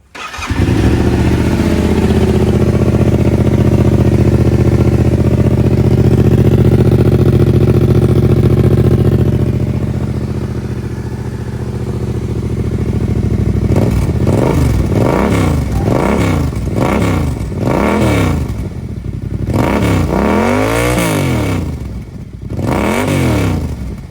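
A Yamaha Tenere 700 motorcycle engine starts up and holds a loud, steady idle with a throaty drone, then gets blipped through a run of sharp, rising and falling revs near the end, close by and with no talk.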